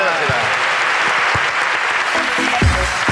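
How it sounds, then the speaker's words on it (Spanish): Loud sustained applause from a live comedy show audience greeting Amaya Barrena, dense clapping throughout with a voice cutting in near the end. "Amaya Barrena, seguí aplaudiendo"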